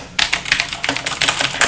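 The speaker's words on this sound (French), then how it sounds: "Ça, c'était vraiment les claviers mécaniques à l'ancienne." Fast, loud clacking of an old-style mechanical keyboard being typed on, a dense run of sharp key strikes lasting under two seconds with no voice over it.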